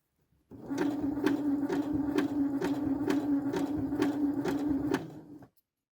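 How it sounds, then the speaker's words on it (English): A sewing machine runs steadily for about five seconds while stitching a label onto a garment, its hum punctuated by regular rapid needle clicks, close and clear, with no talking. "I'm going to use the hand wheel to make sure that I'm just catching the edge of the label"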